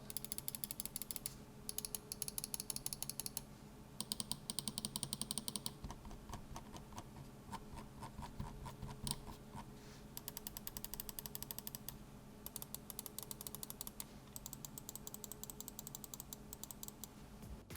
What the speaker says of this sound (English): They were working on the switches a lot, so here's a listen to all the buttons.